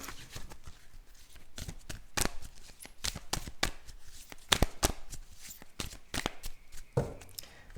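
Sacred Spirit reading cards shuffled by hand, a run of quick crisp riffling snaps and slaps close by, irregular bursts over several seconds with no talking.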